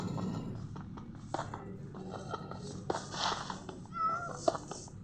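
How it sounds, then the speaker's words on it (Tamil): A cat in the Minecraft video game meows faintly a few times in a village setting, over a steady low game background with scattered soft clicks and thuds. "இங்கே பாருங்கள் கண்ணு எதிர்க்க ஒரு பூனை இருக்குது"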